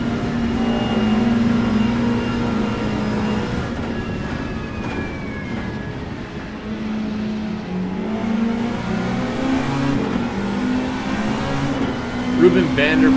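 Race cars lapping in a touring car racing video game, engines whining and rising through the gears at moderate distance beneath an ongoing commentator's voice.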